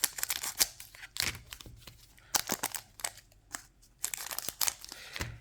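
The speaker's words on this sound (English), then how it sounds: "Do you like to use scissors, knife, right? Cutting across the top" Scissors snip and crinkle through the foil wrapper of a Dragon Ball Super card pack, with a quick run of sharp cuts and crackles close up, heard without speech.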